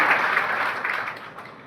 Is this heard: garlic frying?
no